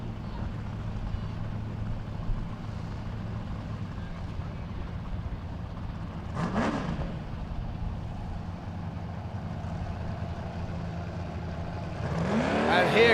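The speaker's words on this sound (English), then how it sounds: "Listen to that big block sing. You cannot hide that big block power when it takes off the line." A big-block race car launches off the line at a King of the Hammers off-road qualifying event, its engine a distant, steady rumble that swells toward the end, with crowd and commentary noise around it.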